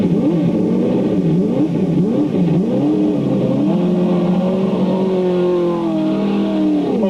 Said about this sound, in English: It was only fitting for a yellow car to make the first pass along the main straightaway in front of the grandstands.